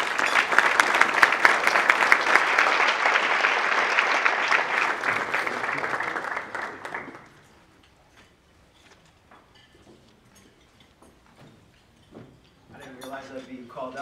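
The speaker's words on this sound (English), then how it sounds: "So let's give him a huge round of applause for Max" Loud audience applause at a banquet fills the first seven seconds with dense clapping, then fades to near silence before a voice starts speaking near the end.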